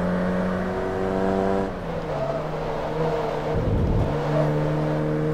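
A Class C race car at Laguna Seca in Forza Motorsport 2 accelerates loudly with nitrous, a steady rising engine drone that shifts gear, then surges with a deeper roar near the end, with no talk.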